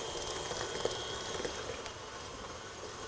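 An electric mixer whirs steadily at medium-high speed, beating almond cake batter of butter and sugar; the even, close motor drone holds without a break.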